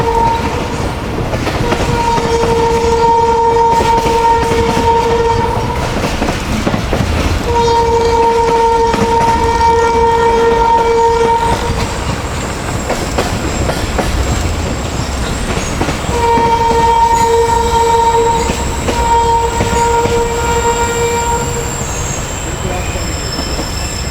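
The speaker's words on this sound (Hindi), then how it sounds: "तो 4:50 पर ट्रेन हमारी रुक गई है जी मलिर कॉलोनी रेलवे स्टेशन पर" Millat Express train pulling into a railway station and coming to a stop, with loud steady rumble of wheels on rails, repeated high tonal squeals of braking wheels in bursts, and a faint voice underneath.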